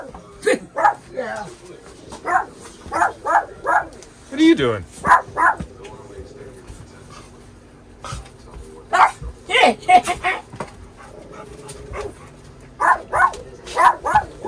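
Indoors at a home during the Christmas season, a dog gives repeated sharp barks and yips in bursts with some whimpering, close and loud, while people talk in between.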